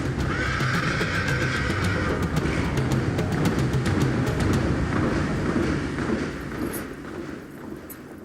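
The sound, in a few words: thoroughbred horse neighing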